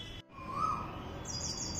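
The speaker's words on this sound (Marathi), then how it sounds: "छान आवाज येतोय कोकिळाचा" An Asian koel calls outdoors near a farm: faint, distant, clear tonal whistled notes rising, then a higher call, over quiet background hiss.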